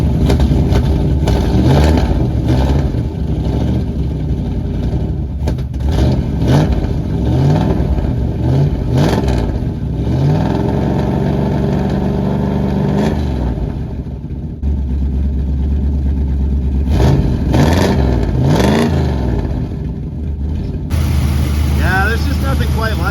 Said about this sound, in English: 426 Hemi cold start?